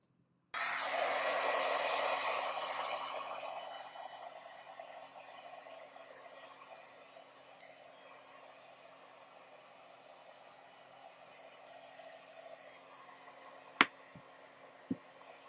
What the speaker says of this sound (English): I'm going to hit it with the heat gun real quick.